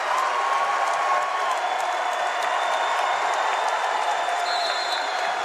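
A packed college basketball arena roars with sustained, dense crowd cheering and applause at George Washington as the Rams pull ahead late in the game, a steady wall of noise that never lets up.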